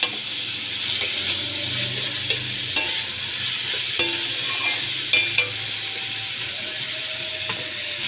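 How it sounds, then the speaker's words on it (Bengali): Shredded cabbage tossed and stirred in a hot cooking pan, with a steady background sizzle cut by sharp utensil scrapes and clacks against the metal at irregular intervals. Nobody speaks. "বাঁধাকপি দিয়ে আমি ভালো করে বাঁধাকপিটাকে নেড়ে চেড়ে নিচ্ছি"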